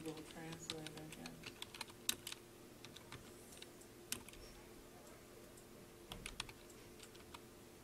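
Typing on a computer keyboard, an uneven run of close, light key clicks with brief pauses between bursts over a quiet room background.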